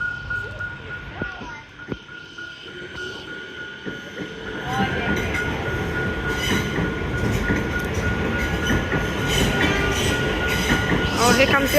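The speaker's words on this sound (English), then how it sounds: "Sounds like there's a train pulling into Yarraville station" A train pulls into Yarraville station near the Anderson Street railway crossing, its rumble building from about four seconds into a steady, close roar of wheels and rail noise that holds to the end, with a few voices early on.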